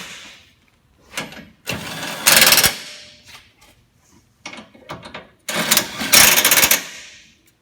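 A hand ratchet tightens bolts on a Chevrolet Silverado / GMC Sierra AC condenser. It makes several bursts of rapid, crisp clicking, close and loud, with short quiet gaps between strokes.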